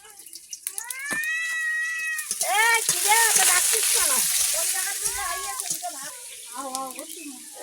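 Fish frying in hot oil in a home kitchen gives a steady, bright sizzle throughout, while a cat meows repeatedly close by, its cries rising over the crackle.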